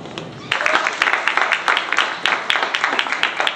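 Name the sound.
audience applause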